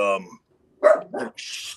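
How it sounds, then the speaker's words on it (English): A couple of sharp dog barks ring out close by, with a brief voice just before them. "they make noise, and then the dogs go nuts."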